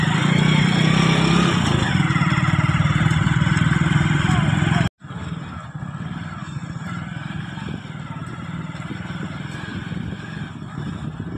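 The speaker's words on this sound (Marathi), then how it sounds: "अभी जा रहे हैं हम बाइक पे बस स्टैंड की तरफ। ले स्टार्ट करते हैं।" A motorcycle on a village trip toward a bus stand is started and ridden, its engine droning steadily, loud and close, with wind rush and road rumble after a brief cut, and voices mixed in.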